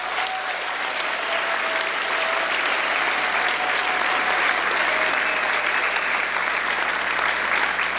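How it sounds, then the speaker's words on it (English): Steady, sustained audience applause for climate leaders at a climate event, dense even clapping that holds at one level throughout with no voices over it. "Please join me in applauding these climate leaders."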